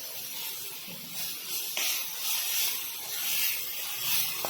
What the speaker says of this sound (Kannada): ಆಲೂಗಡ್ಡಿ ಚಂದಗ ಫ್ರೈ ಮಾಡ್ಕೊಡಿ